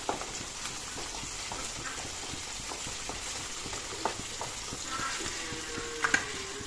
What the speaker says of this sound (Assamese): পিয়াজখিনি ইয়াত দি দিলো পিয়াজখিনি অলপ ব্ৰাউন হ'বলৈ দি